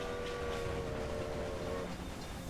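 Trains run steadily in Railway Empire, with a sustained tonal horn-like whine over a dense rumbling rail noise that fades slightly at the end.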